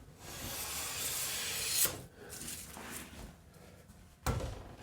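A jointer hand plane takes fine shavings off a wooden board in long, soft rasping strokes, quiet and close, one sustained pass followed by a fainter one and the start of another.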